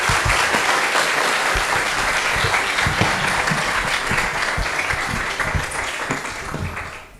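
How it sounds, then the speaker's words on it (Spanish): An audience claps steadily at the launch of the 5th edition of Hack4Edu, in sustained, dense applause that tapers slightly toward the end. "de nuevo un aplauso para ellos"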